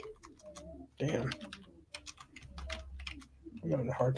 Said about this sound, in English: I'm having a hard time typing today.